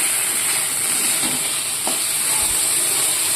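Spice masala being sautéed in a pan for crispy sattu, a steady close sizzle and hiss with faint stirring scrapes throughout.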